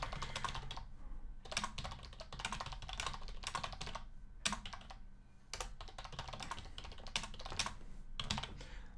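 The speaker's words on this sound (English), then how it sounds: "Just going to type it in." Quiet computer keyboard typing while entering help text into a form, with bursts of rapid key clicks broken by short pauses, close and soft.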